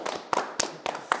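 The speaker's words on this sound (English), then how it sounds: "Can we have a big round of applause?" A small class claps in a few separate, sparse bursts, close and moderately loud, like scattered hands rather than full applause, with a faint voice in the background.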